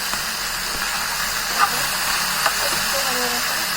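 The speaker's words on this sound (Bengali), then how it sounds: "হালকাভাবে পেঁয়াজটা ভেজে নিচ্ছে" Onion lightly frying in a pan for a fish curry, a steady broadband sizzle running throughout with a couple of brief clicks, close and moderately loud.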